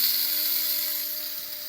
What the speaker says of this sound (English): I like to use my coffee bean grinder since I don't use coffee anymore.